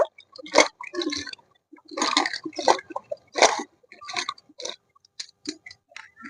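Green chillies are washed by hand in a bowl of water, giving irregular close splashes, swishes and drips in short bursts separated by brief pauses.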